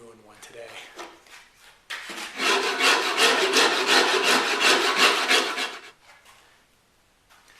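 A wooden guitar neck is carved by hand, giving a close, steady rasping scrape of tool strokes on wood that lasts several seconds before fading away.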